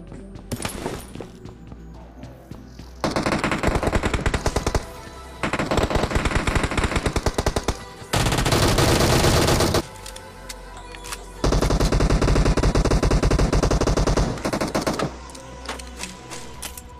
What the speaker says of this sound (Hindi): तो भाई डीपी कभी भी क्लोज में यूज नहीं करना, नहीं तो इसी की तरह मारे जाओगे।